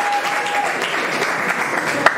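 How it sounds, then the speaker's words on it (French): Student audience at a university gathering in Mwene Ditu applauds, a steady, fairly loud patter of many hands clapping throughout, with a faint tone early and a sharp tap near the end. "Donc, aussi applaudir."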